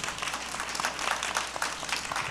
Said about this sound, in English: a round of applause please for the panelists and for the excellent discussions that they have taken